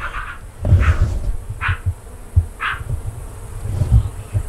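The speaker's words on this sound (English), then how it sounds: "Something's growling and popping. It's got to be that elusive chihuahua frog." Outdoors, a frog gives low growling croaks and soft popping sounds in uneven bursts, close and fairly loud, over a buzzing insect hum.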